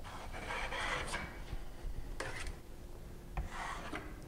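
A drywall trowel scrapes and smears joint compound across a taped butt joint in short rasping strokes with brief pauses, close and fairly quiet, with no voices.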